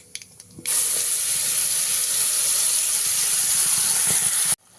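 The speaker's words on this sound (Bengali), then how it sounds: "তেলটা গরম হয়ে গেলে দিয়ে দিচ্ছি একদম সামান্য কালো জিরে" Nigella seeds (black cumin) dropped into hot oil give a sudden loud, bright sizzling hiss that starts abruptly and holds steady for about four seconds, then cuts off.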